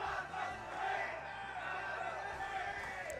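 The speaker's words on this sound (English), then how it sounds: "You hear that crowd out there." A crowd cheers and roars steadily at an Ehrgeiz fighting game tournament (CEOtaku 2023 top 8), a dense, continuous wash of voices mixed with commentators talking.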